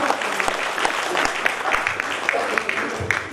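A seminar audience applauds steadily at a healthy living event to welcome a speaker, dense clapping holding at a moderate level the whole time with a murmur of crowd beneath.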